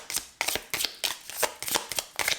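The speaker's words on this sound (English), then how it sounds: "And one last shuffle." Deck of cards being shuffled in quick rhythmic bursts, about six crisp riffling flicks close to the microphone with short pauses between, no voices.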